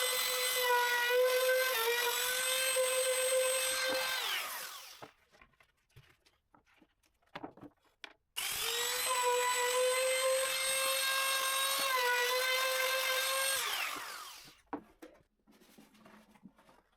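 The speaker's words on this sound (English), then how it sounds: "I round off the edges of the holes because the rounding fits the hooks better" Two long bursts of a high-pitched power tool whirring steadily while rounding off hole edges in wood, each about four seconds, separated by a pause with faint clicks and handling noise.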